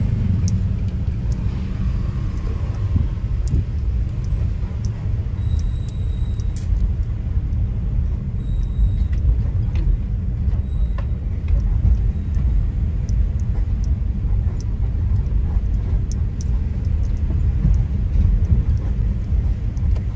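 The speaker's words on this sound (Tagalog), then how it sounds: "Traffic." Continuous road traffic in Baguio City rumbles steadily from inside a moving vehicle, a low engine and road drone with faint clicks, no voices.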